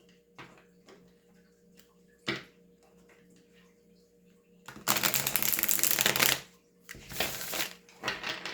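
A deck of tarot cards is shuffled at close range, first a few soft isolated taps and riffles, then a long dense ruffling burst followed by a second shorter flurry and scattered card clicks, with no talking.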